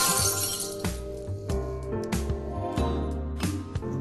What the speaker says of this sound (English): The sounds of glass shattering.